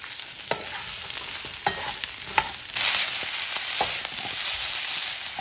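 Zucchini frying in a pan with oil, onion and half a jalapeno: a steady close sizzle that swells louder partway through, with a few sharp clicks of stirring utensils against the pan and no voices.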